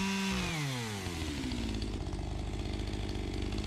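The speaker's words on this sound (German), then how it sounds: "ich zerlege sie mit der Kettensäge so weit" A close, loud chainsaw cuts up tree roots near sandy soil and ingrown wire while clearing ground for a firewood shed; the engine drops in pitch, then runs steadily and rough under load.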